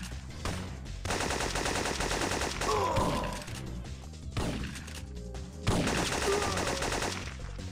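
Rapid bursts of automatic gunfire in the Syphon Filter video game crackle loud and close in two long volleys, with sharp impacts and a short lull between them.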